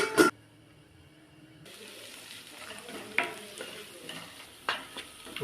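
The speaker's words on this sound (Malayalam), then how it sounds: "ഇതിലേക്ക് സവോള ഇട്ട് കൊടുക്കുക. സവോള നല്ലവണ്ണം വാടി വരുമ്പോൾ ഉപ്പിട്ട് കൊടുക്കുക." Sliced onions fry in a pan for a Chettinad chicken curry, a soft continuous sizzle with a few scrapes and clinks of stirring spaced through, close by, after a sharp clatter at the start.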